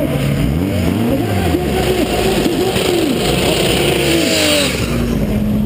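An Opel Calibra Turbo engine revs hard at a Hungarian drag race, its loud, sustained roar rising and falling in pitch with gear changes throughout, close and continuous with no talk.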